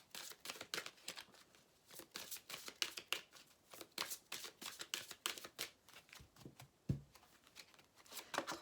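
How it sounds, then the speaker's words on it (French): Oracle message cards shuffled by hand in a quick, papery riffle of close, repeated soft slaps and swishes that continues steadily throughout at low volume. "on va prendre 3 cartes"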